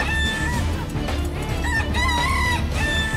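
A rooster-like monster in GTA V crows loudly and close, with repeated wavering, rooster-style cries over a dense, noisy game background.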